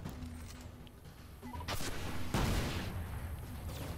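Gunfire rattles through a Destiny Nightfall strike, Winters Run, as a Hunter fires blindly, with a dense busy mix of shots and sharp bursts, one heavy blast standing out midway over constant background game noise.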